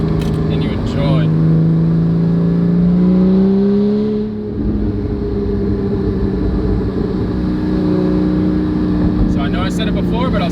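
A Porsche GT4 (981) with a Valvetronic Designs aftermarket exhaust revs and drones loudly and steadily, its pitch rising then settling into a rumbling idle, heard close by.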